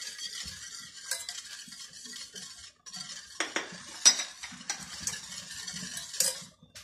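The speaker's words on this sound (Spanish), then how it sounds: "Y echamos azúcar. Y removemos." Sugar being stirred into a chocolate cake mixture in a bowl, with close, irregular scraping and clinking of a utensil against the sides, some strokes louder than others.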